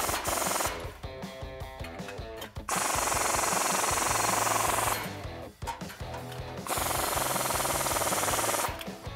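A 13 mm socket tightens the exhaust flange bolts on a 2015-2020 F150 3.5L EcoBoost's Roush single exhaust, with loud, sustained rattling power-tool bursts broken by brief pauses.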